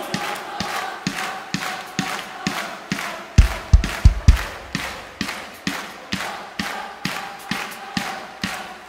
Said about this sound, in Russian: Братья, аплодируем сестрам